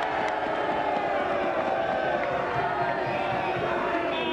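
Crowd noise in Trafalgar Square on a 1974 election day, a steady dense wash of cheering, clapping and voices that holds at an even level throughout, close and continuous.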